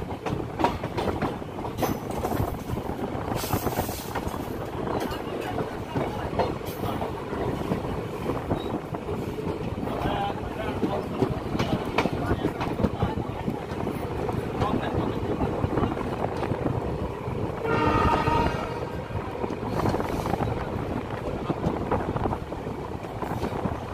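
The Suratgarh–Sri Ganganagar passenger train, heard from on board as it nears Mohan Nagar station, gives a steady, loud rumble and rhythmic wheel clatter with wind buffeting throughout.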